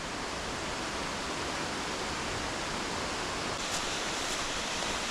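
Malenšček waterfall rushing, a dense, steady broadband roar of falling water that holds constant and close throughout with no other sounds.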